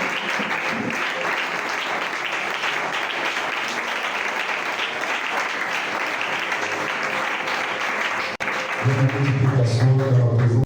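Sustained applause from a church congregation acclaiming the Lord Jesus fills the room at a loud, steady level, breaking off briefly near the end before resuming with a low hum beneath it.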